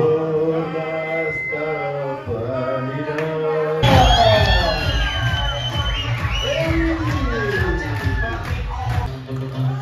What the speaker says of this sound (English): bon applaudissement.